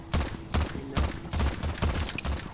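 A recoiling gun fires in the video game Void Train, a steady run of about a dozen punchy shots spaced roughly a fifth of a second apart, loud and close with no talking.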